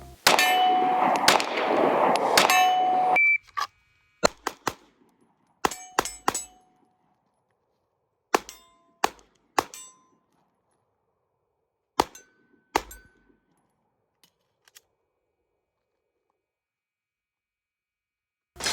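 Pistol shots from a ZEV OZ9 Hypercomp striking steel targets: a dense burst of rapid clanging hits at the start, then single sharp pings spaced out over several seconds, each with a short metallic ring, no talking.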